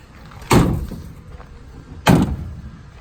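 Two separate thuds of the barn-style tailgate doors of a 2020 RAM 1500 EcoDiesel Rebel truck bed shutting about a second and a half apart, each a sharp clunk followed by a short rattle, close by.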